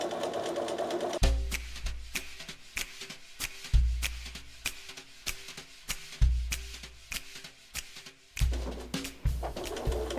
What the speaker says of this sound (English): when I get to the corner, I'm going to end with the needle down, lift my presser foot and turn to go this down this side.